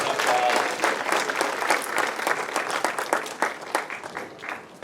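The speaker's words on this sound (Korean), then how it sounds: "박수 해주시기 바랍니다" A crowd applauds steadily, a dense patter of many hands clapping that thins slightly toward the end.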